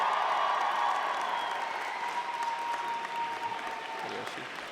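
A graduating class applauds at a university convocation ceremony: sustained, dense clapping from a large crowd in a hall, steady and fairly loud throughout, tapering slightly toward the end.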